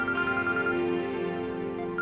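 A phone rings with a melodic, tonal ringtone playing continuously and fairly loud over a faint background, as a call from home comes in.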